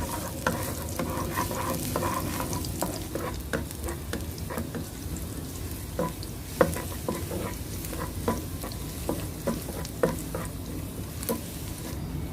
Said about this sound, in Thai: ผัดกระเทียมให้หอมเหลืองดีเลยนะคะ